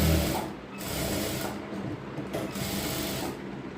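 A sewing machine runs steadily while stitching the upper seam of a ladies' pant, a close, continuous mechanical whir with brief slowdowns and restarts and no voices.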